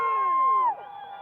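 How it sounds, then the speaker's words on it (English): Fans cheer and whoop at a women's rugby club match featuring Utah State, a loud burst of overlapping crowd shouts and rising whistles that drops sharply to a quieter, sustained crowd murmur. "Cheering fans and people honking car horns filled the air throughout the match"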